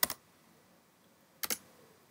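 Two brief bursts of computer keyboard keystrokes, each a quick double tap, separated by a pause of over a second; close and fairly quiet with no talking.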